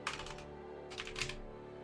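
Two short bursts of rapid typing on a computer keyboard, close and crisp, separated by a brief pause with a low hum beneath.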